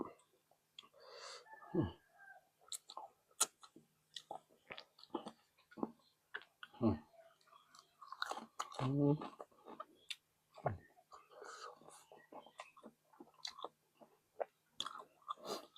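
Close, wet chewing and crunchy bites of spicy Isan papaya salad (tam sua) with rice noodles and meatballs, coming in irregular bursts with quiet gaps, with a voice speaking softly between mouthfuls.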